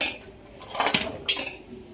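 Metal cutlery clinks against dishes twice in quick succession as rice is served at home, with short scraping chinks and no talk.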